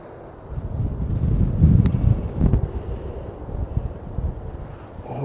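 Wind rumbles and buffets against the microphone out on a golf course, a steady low roar that swells and eases over several seconds with a faint click partway through.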